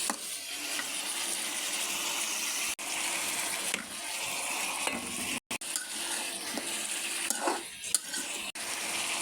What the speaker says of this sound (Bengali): এই যে মশলা কষাইতেছি